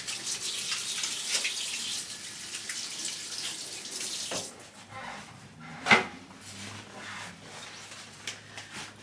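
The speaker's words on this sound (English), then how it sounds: "Let me wash my hands" Running tap water for hand washing in a home kitchen while a roast cooks, a steady broadband rush for about four seconds, then softer splashing and rubbing with a brief clatter near the middle.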